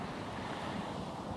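Steady wind and surf on the Baltic Sea coast at Dranske, a dense, continuous roar of waves with wind buffeting the microphone, no voices.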